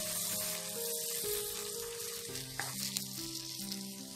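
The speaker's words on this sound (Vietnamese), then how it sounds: "Bây giờ nó đã sôi lên rồi đó, bây giờ mình sẽ cho đậu hũ trắng vào." Tofu simmering in bubbling soybean sauce in a pan, a steady close sizzle and bubbling that stays even throughout with a couple of faint clinks.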